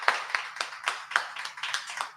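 Hands clap in a radio studio kitchen, about ten sharp, evenly spaced claps over two seconds, close and fairly loud with no voices.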